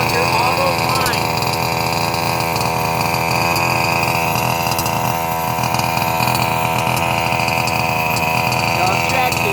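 Fifth-scale RC car gas engine idling on fuel, a loud, steady buzzing two-stroke drone with rough pulsing texture throughout.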